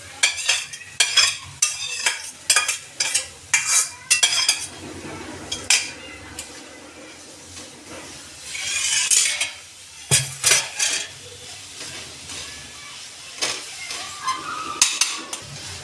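A spoon scraping and clanking against a thick kadhai while modak filling of jaggery, poppy seeds and roasted cashews and almonds is stirred, giving irregular close metallic knocks and scrapes over a faint sizzle.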